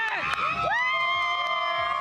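A crowd of Dodgers fans cheers and whoops at a team celebration, with high children's shouts and whistles rising over a steady, loud roar of many voices close by.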